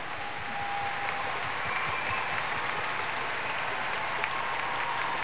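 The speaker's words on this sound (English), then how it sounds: "Can we please give a big round of applause," An audience at a Singapore Chinese Orchestra concert applauds the conductors, a steady, distant wash of clapping that stays even and fairly faint across the hall.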